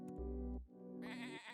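Sheep bleating in a farming video game, one close, clear wavering bleat followed by a second higher bleat, with no talk over it.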